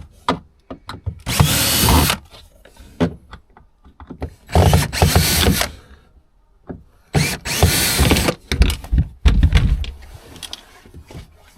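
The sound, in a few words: power drill removing screws in a tour bus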